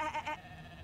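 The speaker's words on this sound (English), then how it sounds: "Shaking her fluffy coat, the sheep eyes you balefully." A brief sheep bleat from the fantasy role-playing video game Divinity: Original Sin, two quick wavering pulses that fade into faint background game ambience, quiet and close.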